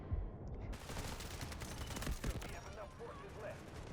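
A CAR-15 rifle fires rapid shots in the Delta Force video game, a fairly quiet, steady rattle of fire with a voice talking over it.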